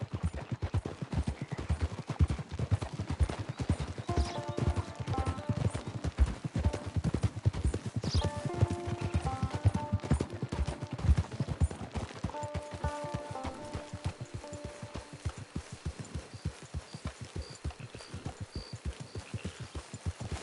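Horse hooves clip-clop in a steady, brisk rhythm across Red Dead Redemption 2 terrain, close and continuous, with soft melodic game music notes drifting over them.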